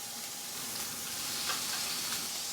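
Ginger chicken pieces sizzle steadily on a grill as they are turned with tongs, a dense crackling hiss with small pops and faint metallic clicks, close and continuous with no talking.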